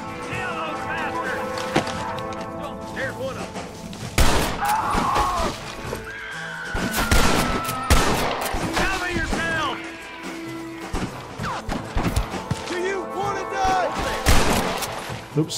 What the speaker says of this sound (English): Of course they would shoot you.